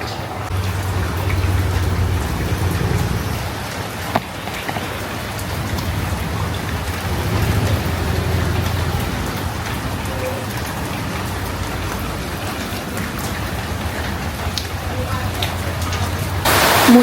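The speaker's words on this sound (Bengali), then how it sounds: "মুষলধারে বৃষ্টি হচ্ছে, আমি একা রান্না করে ফাইসা গেছি।" Heavy rain pours steadily outside a home kitchen during a downpour, a dense, continuous wash of drops that stays loud and even from start to finish, with a low rumble underneath.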